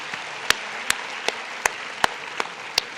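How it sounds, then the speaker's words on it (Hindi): Sharp, evenly spaced handclaps from students at a school felicitation ceremony, about seven distinct claps in a slow steady rhythm over a low background hum of the hall. "इस खुशी में तालियां बजाइए बेटा।"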